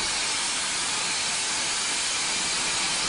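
A steam engine piston at an antique engine museum near San Diego gives off a steady, loud, broadband hiss of escaping steam, continuous and unbroken throughout.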